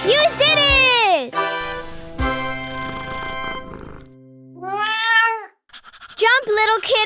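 A cartoon kitten gives several loud, drawn-out, high meows, some rising and falling, with short gaps and a brief quiet stretch between calls.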